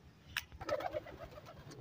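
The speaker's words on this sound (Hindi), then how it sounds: "केज में कबूतर हैं," Pigeons cooing inside a cage, a short burst of soft, throaty coos close by, with light rustling around them and no talk.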